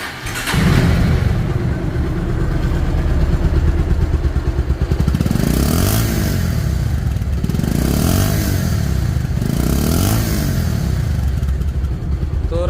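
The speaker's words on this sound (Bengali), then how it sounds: "সাউন্ড শুনলে আপনারা বুঝতে পারবেন যে গাড়িটির ইঞ্জিন কোয়ালিটি কেমন আছে" A 2019 Bajaj Pulsar double disc motorcycle engine runs close by, a loud steady rumble rising in several revving swells, with no talk over it.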